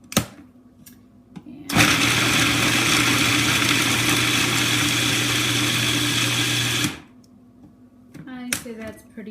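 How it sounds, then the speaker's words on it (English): Food processor with an S-blade chopping soaked walnuts for a raw vegan chocolate cake, a loud steady motor whir running about five seconds, with brief talk and clatter before and after. "we're gonna roughly chop the walnuts. We're gonna put that in the food processor"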